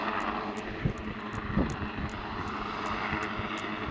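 A rescue helicopter hovers at night near Beachy Head, its engine a steady low drone with a faint regular rotor pulse, heard from nearby over wind with no talk.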